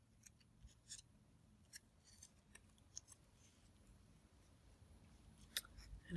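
Scissors snip paper while trimming pieces for a handmade Christmas journal, a series of quiet, close, crisp cuts in an irregular rhythm, sharpening toward the end.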